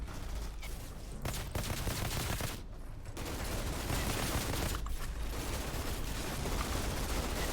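Sustained gunfire in the video game Outriders, a dense continuous fusillade of rapid shots with brief lulls, loud and close throughout with no talk.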